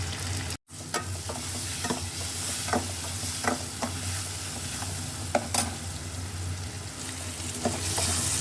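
Uggani cooking in a pan with turmeric and salt, stirred with a steady scraping and a constant sizzle throughout, close and fairly loud, with no talking.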